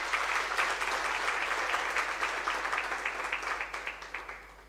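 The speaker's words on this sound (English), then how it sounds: "Let us give her a round of applause." Audience applause for a guest speaker, South African anti-apartheid activist Ambassador Thenjiwe Mtintso, at a lecture: full clapping that gradually thins into scattered individual claps by the end.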